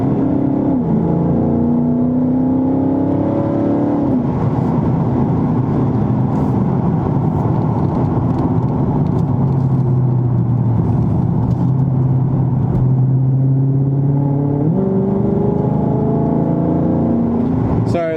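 A Dodge Charger Scat Pack in sport mode climbs mountain corners, its engine rising and falling in pitch through the bends as it revs, with a steady road rumble underneath and someone talking over it.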